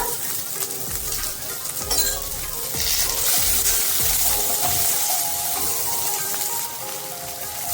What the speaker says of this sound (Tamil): கொஞ்சம் உப்பு சேர்த்து நல்லா வதக்கிக்கோங்க